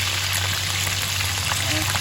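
Fish and saluyot (jute leaves) frying together in a pan, a steady close sizzle with crackling spatter running throughout the two seconds, with no talk over it.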